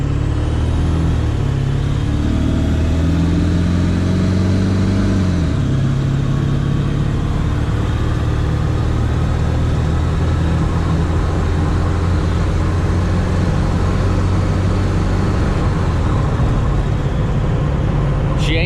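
A Ford OBS pickup truck's engine runs steadily on a test drive after a water pump replacement, a loud, continuous low drone with a pitch shift as it changes speed, heard close from inside the cab with no talk.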